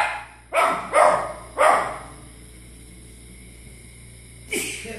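A dog lets out three sharp barks in quick succession, falls silent, then gives one more bark, close and loud indoors while dogs play on a TV.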